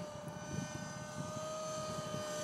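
A radio-controlled flybarless helicopter fitted with EDGE 603 blades flies steadily, its rotor and motor giving a constant tonal whine with a low, fluttering rumble underneath.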